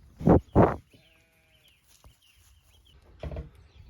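Sheep on a New Zealand farm bleat twice in quick succession, loud and close, followed by quieter rustling and one more shorter bleat near the end.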